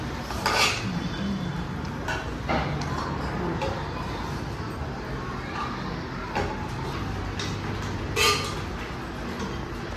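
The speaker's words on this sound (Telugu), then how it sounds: "ఇప్పుడు ఇది తీసి మనం ఈ ఉడుకుతున్న పాకంలో కలుపుకుందాం" A spoon scrapes and knocks against a steel pot as cooked rice and dal are stirred into boiling jaggery syrup, with occasional sharp metallic clinks over a steady bubbling hiss, close and moderately loud.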